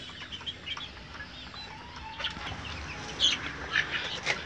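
Chickens cluck softly in the background, scattered short calls over a low ambient hum.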